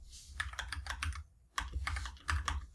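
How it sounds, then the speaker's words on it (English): Numbers typed on a computer keyboard, a close run of quick clicking keystrokes in two bursts separated by a brief pause. "I'm just typing them in and typing in the frequencies"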